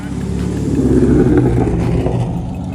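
A car engine revs hard and drives aggressively at a street takeover during a block party, a loud, sustained roar with rising and falling throttle close by.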